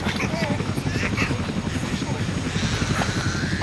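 Helicopter rotor thumping steadily and loud throughout, with overlapping voices talking nearby.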